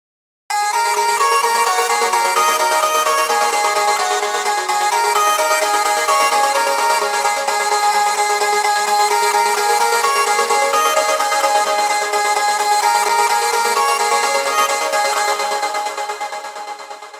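A bright, heavily processed vocal chop pattern plays continuously with a gated reverb tail, dense and shimmering, then fades at the end.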